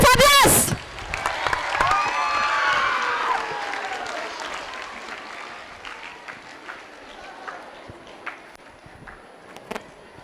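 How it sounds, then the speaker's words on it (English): Audience applauding at a basketball court inauguration at Bethany Navajeevan Institutions, a loud burst at first that fades into scattered, thinning claps, with voices and crowd murmur throughout. "Give him a big round of applause."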